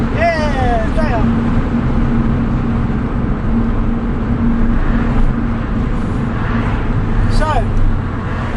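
A Porsche 911 996.2 Tiptronic with a Dansk exhaust holds a steady, loud engine drone throughout, a constant low hum with little change in pitch, and faint chirping sounds over it.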